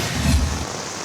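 Heavy rain pours down during flooding with high tide in Dagupan City, a dense, loud, steady hiss with a low rumble, no voices.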